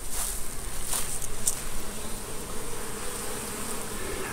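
Honey bees buzz steadily around a hive entrance beside a goldenrod field, many returning laden with dark orange pollen; a dense, continuous hum of wings fills the air at close range with no voices.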